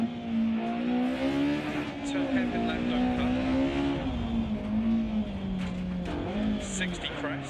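A BMW E30 rally car in the Dirt Rally video game on a Germany stage: the engine drones steadily through the gears with rising and falling pitch, while someone talks over it.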